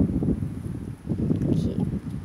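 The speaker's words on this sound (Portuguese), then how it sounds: "Desculpa o vento" Outdoor wind buffeting a microphone beside a jade plant, low rumbling gusts that swell and dip, close and fairly loud, with no talking.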